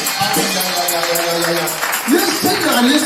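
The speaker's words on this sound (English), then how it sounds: "Somebody clap more, clap more, clap more." A church congregation claps and cheers amid loud voices, with applause running steadily under shouting and talk.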